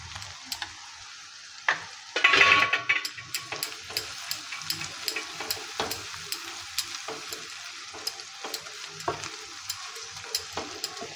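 Ginger garlic paste and masala frying in a pan over a medium-low flame, giving a steady soft sizzle with repeated spoon stirs and scrapes and one louder burst of frying near the start.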